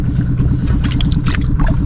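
Small boat engine runs steadily and loudly on water in a channel choked with water lilies, a dense low throbbing drone with an even rhythm and brief higher splashes or rattles over it.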